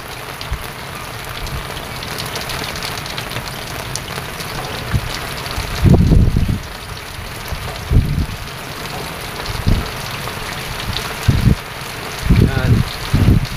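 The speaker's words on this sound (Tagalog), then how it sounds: "Lakas na ulan man. Oh. Kasamang hanging malakas!" Steady rain hisses with gusting wind, interrupted by several loud low thumps of wind hitting the microphone.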